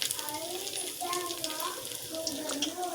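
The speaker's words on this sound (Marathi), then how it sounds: "पाच ते दहा मिनटं हे फ्राय करून घ्यायचे आपल्याला तेलामध्ये" Chicken pieces frying in oil for chicken chilli, a soft continuous sizzle and bubbling with light stirring, fairly faint, under brief intermittent talk.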